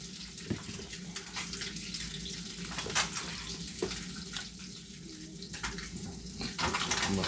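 Three fish frying in a pan, a continuous watery crackle and sizzle with occasional sharper pops and scrapes, fairly faint and steady throughout.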